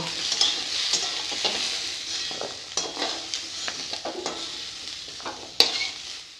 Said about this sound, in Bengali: এভাবে গাজরগুলোও ভেজে নেব বরবটিও সঙ্গে ভেজে নেব